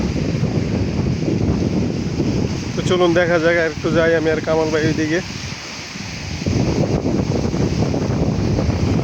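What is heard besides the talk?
strong wind at the seashore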